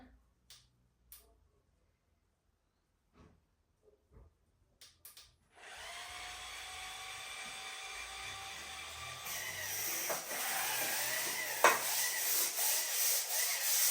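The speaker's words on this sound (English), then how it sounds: "You just hold it, and this is going to do all the scrubbing for you." A Sorpci electric spin scrubber starts up after a few faint clicks and handling sounds, then runs as a steady buzzing whir that grows louder and rougher as it scrubs.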